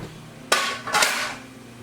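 Cranberries and other relish ingredients drop into a cooking pot, with two sharp clunking impacts close together, then a short rattling tail over a quiet background.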